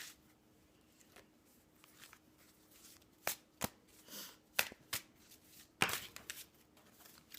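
Oracle cards are shuffled close by, with soft riffling and a series of crisp slaps and snaps, fairly quiet in a calm room.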